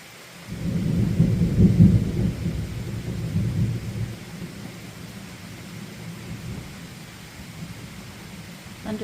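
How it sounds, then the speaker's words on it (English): Deep thunder rolls and echoes off a mountain near an Appalachian Trail shelter in the evening, a loud low rumble swelling early then fading into a long distant tail over soft steady rain. "Thunder sounds closer when it's echoing off the mountain"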